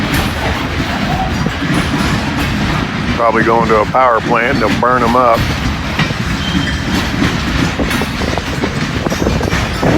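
A freight train loaded with old railroad ties rolls past on a cold, windy day, a steady loud rumble with wind buffeting throughout and a brief horn-like tonal burst midway, while someone talks over it.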